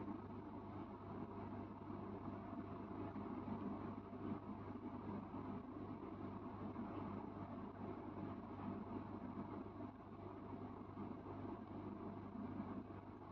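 A sewing machine runs without pause, stitching a strip onto ladies' trousers, its motor giving a steady low mechanical hum and whir at an even level throughout, with no talking.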